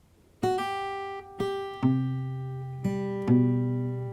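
A phrase played very slowly on guitar, five plucked notes and double-stops spaced about a second apart, each ringing and fading, close and clean with no voice.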